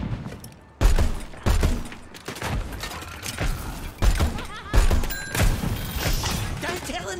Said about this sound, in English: And get this! More bombs!